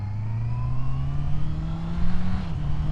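A 2024 Honda CB650R E-Clutch motorcycle pulls away, its engine note held steady and loud close by, climbing gently in pitch as it accelerates in low gear.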